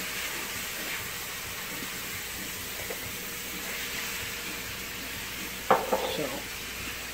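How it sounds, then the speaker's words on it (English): Ground beef browning in a pan on the stove, a steady soft sizzle with scraping stir strokes throughout and a brief louder clatter near the end, with no voices. "So, we're gonna brown the hamburger so it's fully cooked."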